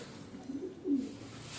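Andhra breed pigeons coo softly and close by, giving a couple of low, rounded calls with a quiet pause between them and no talking.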